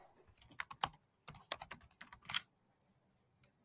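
A product name is typed on a computer keyboard in a few quick bursts of close, crisp key clicks, with a short pause mid-way and a single final tap.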